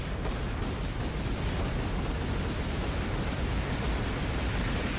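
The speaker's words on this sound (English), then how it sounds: "Everything, every boss explodes in this game as a video game boss should." A boss blowing up in the video game Half-Genie Hero, a dense, continuous roar of explosion noise that fills the whole clip at steady loudness, broadband and rumbling with no pauses.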